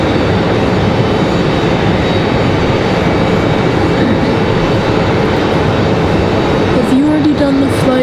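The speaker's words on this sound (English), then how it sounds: "Here comes our A321 from Charlotte" Airbus A321 airliner arriving from Charlotte at Raleigh-Durham International Airport, a loud, steady broadband engine roar filling the whole stretch without letup, close to the listener.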